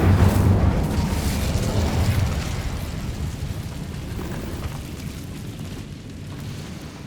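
The Incendio fire spell cast in Hogwarts Legacy bursts out as a loud, close whooshing roar of flame that slowly fades into a steady rumbling hiss, with no voices.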